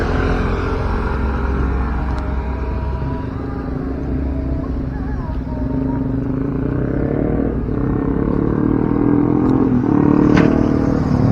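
Cars and motorbikes roll over a bridge on the Padang–Bukittinggi road near BIM airport, giving a steady traffic rumble with passing engines and occasional clatter, with faint talk underneath.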